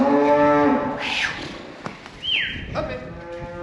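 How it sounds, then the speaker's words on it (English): Cattle on a farm in spring give a few long, loud moos close by, with farm background noise and someone talking in between. "Come on, cows."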